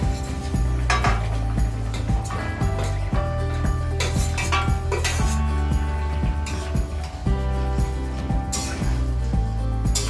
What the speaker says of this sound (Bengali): এখন ভেজে রাখা পটলগুলো দিয়ে দিচ্ছি।